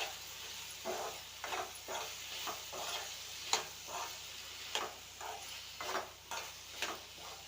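Cooking food is stirred after salt is added, giving soft, regular scrapes of a spoon in a pan roughly every half second over a faint sizzle, close and moderate in level with no voices.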